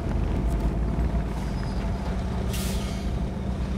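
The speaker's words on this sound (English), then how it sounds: "It has air brakes." Air brakes on a Mercedes MK63 6x6 truck in the SnowRunner video game, a loud sharp pneumatic hiss bursting out over the steady low rumble of the idling diesel engine.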